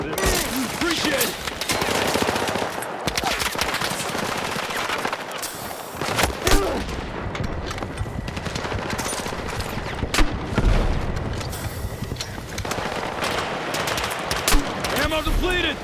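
Dense gunfire fills a night raid mission in the video game Battlefield 6, with bursts of machine-gun fire, fusillades and occasional booms layered continuously and loudly, while shouted soldier callouts break through now and then.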